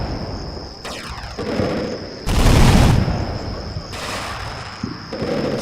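Gunfire in Combat Mission Shock Force, German Gebirgsjäger against Syrian Special Forces: bursts of rattling shots and heavier booms arriving in clusters, some close and loud, over a steady battlefield hum.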